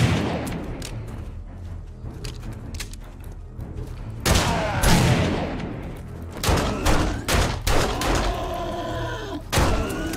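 Shotgun blasts ring out in the video game 7 Days to Die, a handful of sharp, loud booms at irregular intervals, each trailing off with a brief echo over quieter clatter.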